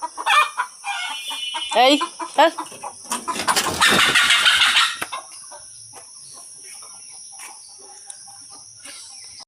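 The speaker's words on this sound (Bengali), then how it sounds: "সকালবেলা উঠি সব মুরগি ছাড়ার পালা।" Chickens cluck and a rooster crows close by as the flock is let out in the morning at a Bengali rural home, with busy scuffling and fluttering in the middle, a person speaking briefly and crickets continuing afterward.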